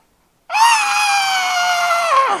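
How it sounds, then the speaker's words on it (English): A sustained, piercing, moaning screech rises abruptly after silence and holds steady and loud for about two seconds before sliding down and cutting off, a voice-like scream standing in for fantasy mushroom creatures. "an ear-shattering screech can be heard as every single mushroom creature and even the enormous decay mushroom itself lets out a moaning"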